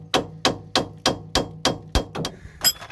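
A hammer strikes a rusted, seized ball joint nut on a van in a steady run of about nine close, loud, ringing metallic blows at an even pace, the last few quicker and more irregular.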